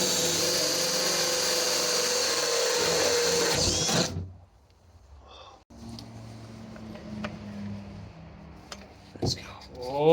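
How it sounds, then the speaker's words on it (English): A power drill bores a drain hole through the sidewall of a tiny house for plumbing, whining steadily and loud for about four seconds before cutting out, followed by quieter handling sounds and brief talk. "So I got one chance to drill this hole right."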